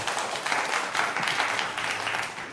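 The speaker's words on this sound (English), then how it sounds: "Can we have a big round of applause, please?" An audience at a defence summit breaks into applause, a dense and steady wash of clapping from many hands that stays loud for the whole stretch.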